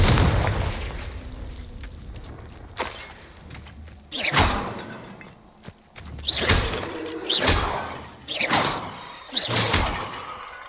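Confringo blasting-curse explosions in Hogwarts Legacy, several loud booming blasts spaced a second or two apart, each with a sharp crack and a rumbling tail, after a quieter stretch of ambience.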